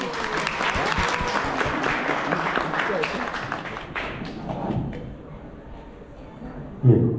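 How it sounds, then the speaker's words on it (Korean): Wedding guests at a Korean ceremony give a big round of applause, dense clapping that runs for several seconds, then thins and fades, ending with a soft bump and a voice. "큰 박수 부탁드립니다"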